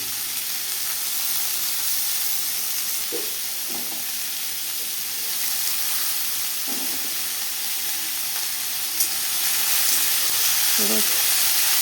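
Vegetable peels with dried chilli sizzle and fry steadily in a pan, with a few brief scrapes and stirring knocks breaking through the continuous crackle; no one speaks.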